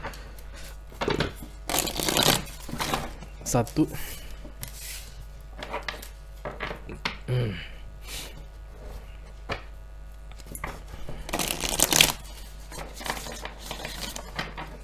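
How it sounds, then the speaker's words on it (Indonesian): Tarot cards shuffled in repeated bursts of papery riffling and flicking, with quiet pauses between rounds and a single spoken word. "Oke, 3 kali shuffle lagi dan kartu ini siap digunakan ya Virgo."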